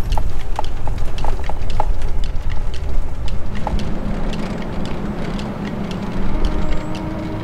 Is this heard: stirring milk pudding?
no